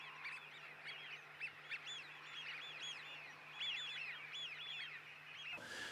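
Eurasian wigeons give repeated high whistling calls, several birds overlapping at a moderate distance over a faint steady hum.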